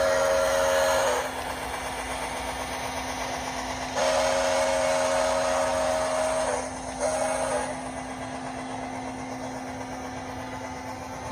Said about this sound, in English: This is a DCC locomotive